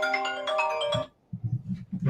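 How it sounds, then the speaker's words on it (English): A mobile phone ringtone goes off during a live broadcast at the IPC APEX 2021 event, playing a bright melodic tune for about a second, followed by a pause and low murmuring. "There's a phone going off."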